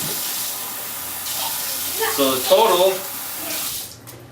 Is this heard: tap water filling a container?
yes